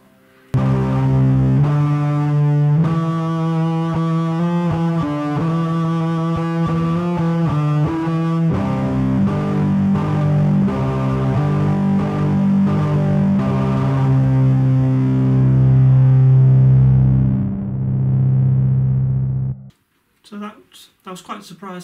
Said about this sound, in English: the distortions are good